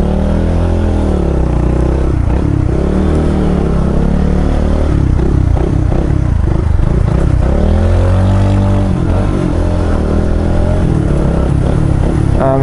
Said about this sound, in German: Es fahren hier ziemlich viele Motorräder rum.